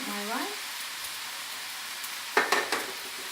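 Rice with curry powder and seasoning sauce is stir-fried in a pan. A steady close sizzle runs throughout, with a brief tonal scrape at the start and a few sharp clanks of a spatula being stirred near the end.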